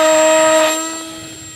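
A Modster Easy Trainer 800 RC model airplane, hand-launched on a slope, gives a loud steady high-pitched electric motor whine with sustained tones that fade as it flies away.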